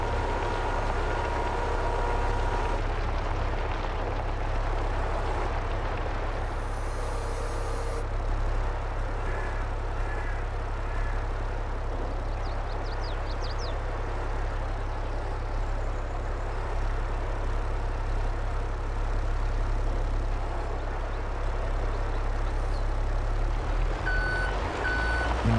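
A dump truck drives in Farming Simulator 22 on a Mason County farm map, its steady engine drone running throughout, with repeated reversing beeps and a hiss like an air brake near the end. No one speaks.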